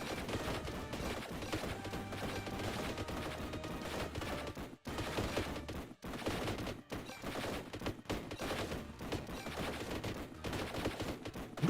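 Rapid las gun fire from the Warhammer Survivors video game, a dense, continuous barrage of shots layered over loud game music and effects, with only brief dips in the stream.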